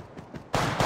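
Gunfire in the mobile shooter Apex Legends Mobile, a few soft low thumps followed by a sudden loud burst of continuous broadband firing that fills the second half, close and dense.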